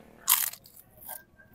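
Someone bites into crunchy carrot chips: one sharp, close crunch, then a softer crackle a moment later, in a quiet setting without speech.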